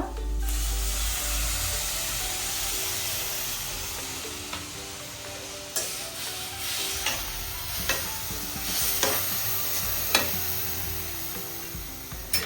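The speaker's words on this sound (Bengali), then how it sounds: "আমার গাজরটা ভাজা হয়ে গেছে, আমি এবার দুধ দেব।" Grated carrots for a homemade carrot halwa sizzle in a pan with milk being added, a constant frying hiss broken by periodic scrapes and clinks of a stirring spoon, close and alone.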